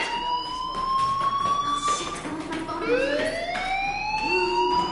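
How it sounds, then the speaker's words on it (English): A fire alarm wails in repeated rising electronic sweeps, loud and continuous, with no voices over it. "do you hear that fire alarm? That means you should be outside."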